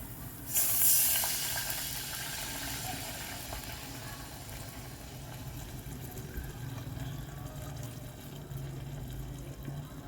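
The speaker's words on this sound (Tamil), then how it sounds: "இப்போ வந்து தண்ணி ஆட் பண்ணிக்கலாம்." Water is poured into a hot cooking pot of golden-browned brown rice porridge base: a sudden burst of hissing sizzle, then a steady, softer rushing and bubbling that continues.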